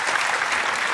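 A live audience at a poetry and music stage show applauds in a dense, even, close wash of clapping that lasts the whole moment.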